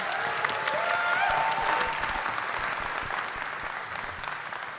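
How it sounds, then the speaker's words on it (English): An audience applauds an author introduced on a panel, steady, dense clapping from a large crowd that swells early and gradually tapers off over a few seconds. "I'd like everyone to give a warm round of applause to Timothy Zahn."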